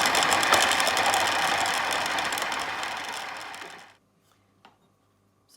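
A food processor fitted with a blade blitzes flour, salt and butter into fine breadcrumbs, a loud, harsh, grinding whir that runs for about four seconds and then cuts out, leaving a few faint clicks.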